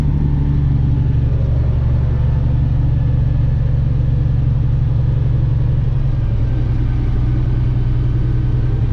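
A truck engine runs steadily at a low, even rumble, close and continuous with a slight shift in tone partway through and no talking over it.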